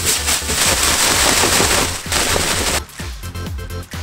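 Rapid, steady knife chops through daikon radish hitting a cutting board, loud and close, with a brief pause before quicker chopping resumes.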